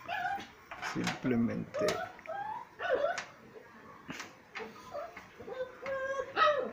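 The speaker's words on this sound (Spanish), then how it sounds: "la que llora es mi perrita." A small dog whimpers and yips in short, high, plaintive bursts, faint and fairly close, repeating under a person speaking steadily throughout.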